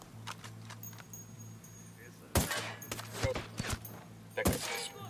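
Bursts of automatic turret gunfire in the video game Ghost Recon Wildlands, loud clustered volleys breaking out over a steady low engine hum, with voices talking between the shots.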